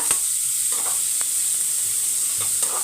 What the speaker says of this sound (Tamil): இப்போ வெங்காயம் வந்து நல்லா ஒரு எயிட்டி பர்சன்ட்டு வதங்கணும் நம்மளுக்கு